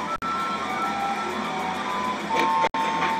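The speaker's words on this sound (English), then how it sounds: "It's a guy cranking out a tune on his organ, famously known as an organillero." A wheezy, reedy street barrel organ cranked by an organillero in Mexico City plays a sustained tune with held notes, slightly out of tune, amid street background noise.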